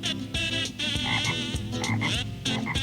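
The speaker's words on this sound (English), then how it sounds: "Off goes the frog again until another froglet hops off." Frogs croak loudly and continuously in a jungle, a dense chorus of overlapping rasping calls with no talk.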